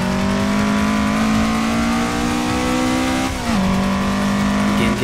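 A race car engine in Assetto Corsa drones at high revs on a mountain touge run, a loud steady tone that dips briefly as the gear changes, then climbs again, with no voices.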